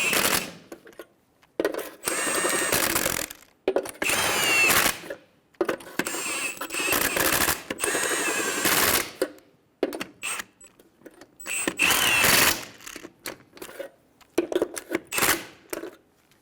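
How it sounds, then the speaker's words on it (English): Bursts of a pneumatic impact wrench snugging down lug nuts on a 2005-2015 Toyota Tacoma wheel: loud, close rattling runs of a second or so each, repeated several times with short pauses between. "Snug down the lug nuts."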